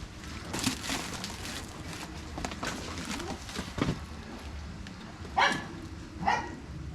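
A dog barks a few times at a rural fish pond in the Philippines, with short separate barks at a moderate distance over a faint background bustle, and no clear speech.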